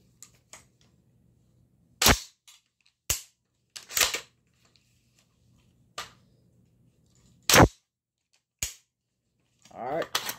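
AR rifle bolt release slamming shut with a PMAG Gen 2 magazine inserted: several separate sharp metallic clacks spaced a second or two apart, close and loud, with softer handling clicks between and brief talk near the end.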